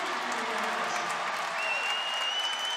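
A stadium crowd at an indoor track meet claps and cheers steadily, a dense continuous wash of applause with no pauses, loud and close.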